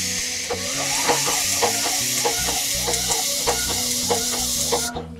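A putty spray machine's gun sprays Birla White wall putty onto plywood, making a continuous close hiss over a pulsing mechanical hum that cuts off abruptly at the end.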